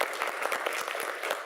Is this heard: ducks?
no